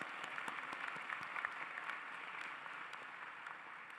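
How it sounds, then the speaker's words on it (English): Sustained audience applause at a law school commencement ceremony, a steady dense wash of clapping from a large crowd that holds at an even level for the whole stretch, with no voices heard over it. "Yes, they deserve that applause."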